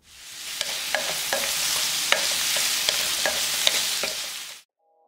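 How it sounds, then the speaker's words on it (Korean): Young zucchini stir-fries in a pan with anchovy fish sauce, giving a steady close sizzle broken by sharp scraping taps of a utensil, ending in sudden silence. "애호박이 반 정도 익으면 멸치 액젓 1스푼, 후추 약간 넣고 볶아서 마지막에 소금 2꼬집 추가했다."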